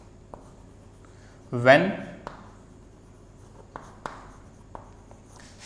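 Writing on a board during a Class 10 maths lesson on circle area: a handful of light, sharp taps and short strokes spaced a second or so apart, with a brief spoken word partway through.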